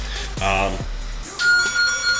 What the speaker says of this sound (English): I'm not supposed to answer the phones because those are like, that's literally just like a business phone